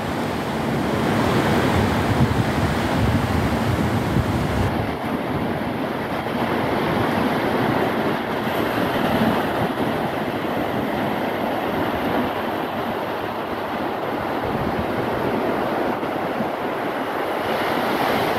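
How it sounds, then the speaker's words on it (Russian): Sea waves and surf roll in a steady, loud wash with wind noise on the microphone, continuous and unbroken with no voices. "Волна какая."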